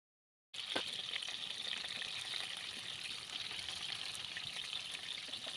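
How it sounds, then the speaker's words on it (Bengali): Pieces of coral fish fry in hot oil in a pan, giving a steady, close sizzle that starts after a brief silence and continues evenly, with faint crackles and no speech. "মাছগুলোর এক পাশ ভালোভাবে ভেজে এখন মাছগুলোকে উল্টিয়ে দিচ্ছি।"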